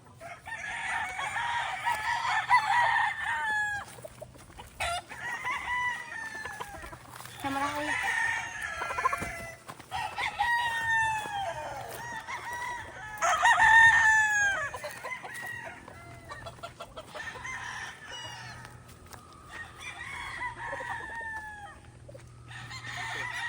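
Chickens and roosters in a flying pen, including a Boston Roundhead cross and White Kelso birds, crow and cluck repeatedly at close range, with overlapping calls and faint low background hum throughout.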